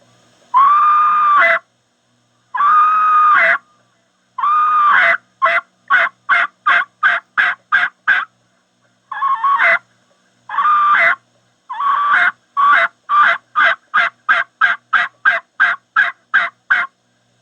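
A hunter's turkey call imitates a hen turkey's yelp: a few long drawn notes, then quickening runs of sharp, evenly spaced yelps, loud and close with silence between series.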